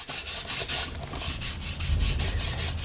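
Rhythmic rubbing strokes across the sanded, painted edge of an MDF skirting board, a soft close-up scratchy swish repeating roughly every quarter second with steady strokes and no talking.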